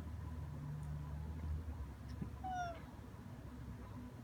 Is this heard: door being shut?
no